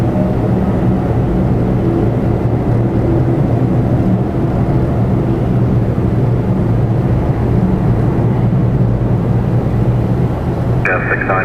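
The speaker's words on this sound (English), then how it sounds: "I've got a Saudi Dreamliner departing now." A Saudi Boeing 787 Dreamliner takes off at Toronto Pearson with a steady, loud, broad jet roar that holds throughout, while faint radio voices murmur underneath.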